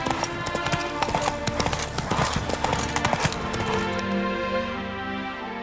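Horse hooves clip-clop in The Witcher III Wild Hunt, a steady run of close, crisp hoofbeats over a dense game soundscape, slowing and fading toward the end.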